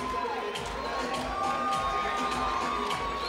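A boxing arena crowd cheers and shouts for Giovanni Ponce after a four-round fight, a steady distant roar of many voices with a ringside commentator talking over it.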